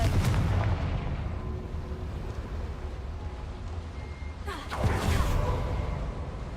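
A Confringo fire spell is cast in Hogwarts Legacy, a dense roaring rumble that swells into a bright fiery burst partway through before settling back into a heavy low roar.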